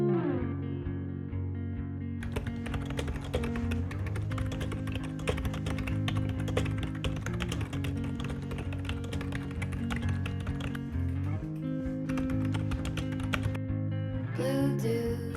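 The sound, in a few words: typing on a computer keyboard while writing a novel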